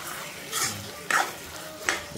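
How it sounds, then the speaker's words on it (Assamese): Chicken cooked with spices is stirred in a pan over the gas flame, a low sizzle broken by three distinct spatula scrapes and clatters against the pan. "ধুনীয়াকৈ লৰাই থাকিম অলপ সময়ৰ কাৰণে।"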